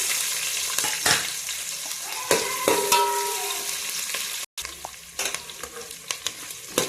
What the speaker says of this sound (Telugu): జీలకర్ర ఆవాలు, అలాగే పచ్చిమిర్చి, ఉల్లిగడ్డలు కూడా వేసుకుంటున్నా.